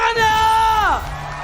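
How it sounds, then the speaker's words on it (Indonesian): A loud esports arena crowd cheers at an MPL Indonesia Mobile Legends match, with a strong sustained shouting voice over the crowd noise that drops away near the end. "EPL Arena, minta tepuk tangannya!"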